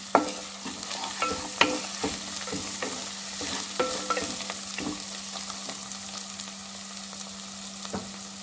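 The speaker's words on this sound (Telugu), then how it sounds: "అందుకని చెప్పి నేను ఆనియన్స్ రెడ్గానే ఫ్రై చేస్తాను." Onions frying in a pan for chicken curry, cooked until reddish, hiss with a steady sizzle while a spoon stirs and scrapes them in quick, irregular strokes, close and clear with no talking.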